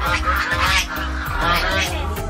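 Large geese at a garden farm honk repeatedly in loud, close, overlapping calls, a busy rhythmic chorus of nasal blasts filling the whole moment.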